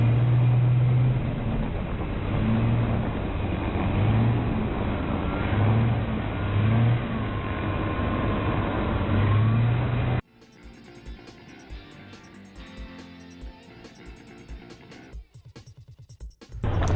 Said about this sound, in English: Listen to the motor work to get movement going.